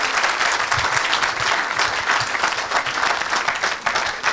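A church crowd claps and cheers loudly in a packed room, a continuous wash of hand claps with scattered shouts that holds at full strength.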